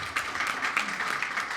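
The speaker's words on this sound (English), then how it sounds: "Let's give them a bigger round of applause." Audience applause at the launch of an education programme in Belize, following a violin performance by three brothers; steady, fairly soft clapping from a crowd, even and sustained without voices.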